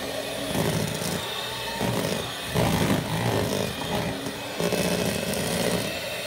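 An electric hand mixer whirs loudly and steadily through cake batter for a peach cobbler pound cake, its motor pulsing in uneven bursts as it churns.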